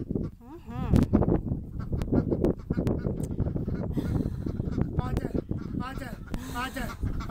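Barnyard ducks and chickens honk, quack and cluck in a busy overlapping chorus close by, while a person speaks softly among them.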